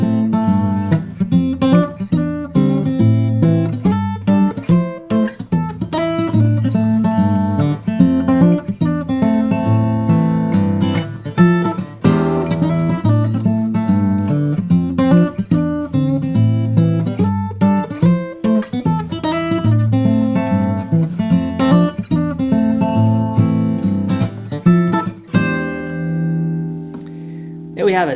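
A solo guitar arrangement of a song's chorus, strummed and picked busily and loud throughout, the chorus repeated with rhythmic chords and bass notes and a ringing final chord at the end.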